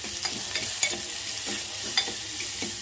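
Finely chopped onion stirred in a hot frying pan with curry leaves, giving a soft continuous sizzle broken by several light spoon scrapes at an irregular pace, close and quiet, with no talking.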